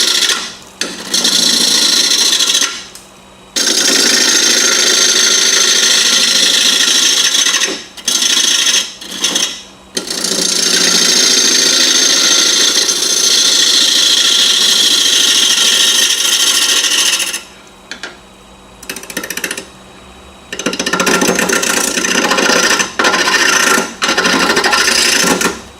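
A wood lathe turns a bowl while a gouge cuts the spinning wood, making loud, coarse rasping in long sustained bursts broken by a few short quiet gaps.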